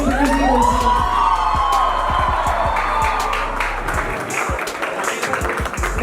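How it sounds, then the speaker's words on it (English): An audience at a film's success celebration cheers and applauds together, a sustained wash of clapping with whoops and shouts, loud and continuous throughout. "Can we all have a loud cheer for the audience"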